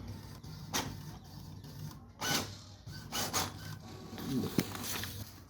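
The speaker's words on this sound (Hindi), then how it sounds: "तो कलर को प्रेस कीजिएगा तो फिर दोबारा स्कैन लेगा और ये आपको प्रिंट करके दे देगा" A Brother DCP-T230 inkjet printer scans and prints a color copy, giving quiet mechanical whirring with several short sliding, rubbing bursts from the carriage and paper feed at close range, with no talk.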